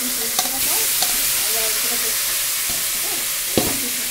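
Ripe papaya pieces frying in oil with cloves and a bay leaf, giving a steady close sizzle broken by a few sharp stirring scrapes and clicks, with no voices.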